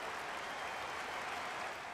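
A stadium crowd in the AFL 26 video game roars and cheers after a goal just before half-time, a dense, steady wall of cheering and applause that holds for the full two seconds.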